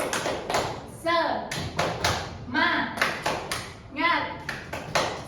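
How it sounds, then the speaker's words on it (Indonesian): A classroom of students does a rhythmic spirit clap led by their teacher, with crisp groups of claps alternating with short chanted calls from the children, loud and close. "Ibu mau kasih tepuk semangat"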